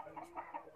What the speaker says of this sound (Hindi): और आप ये देख सकते हैं कड़कनाथ, 6 देखिए कड़कनाथ।